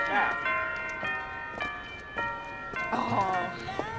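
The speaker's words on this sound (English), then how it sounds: "Bells, they fixed the bells." Church bells ring in a snowy town, sustained tolls with strikes roughly every half second, moderately loud, with people talking over them.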